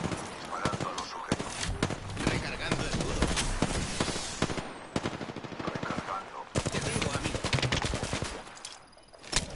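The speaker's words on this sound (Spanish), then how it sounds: "Me están disparando." Rapid automatic gunfire bursts from a first-person shooter game firefight, loud and dense, with short pauses between volleys and a voice talking over the shooting.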